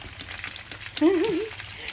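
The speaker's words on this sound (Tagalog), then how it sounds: "ito na nga ang aming prito" Siomai fries in oil over medium heat, sizzling quietly in a pan with soft crackles, briefly overlaid by a short wavering tone partway through.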